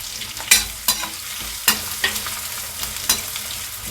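Grated ginger, onion and green chilli frying in a pan, crackling steadily while a spoon stirs with several sharp scraping strokes, close and fairly loud, no one speaking.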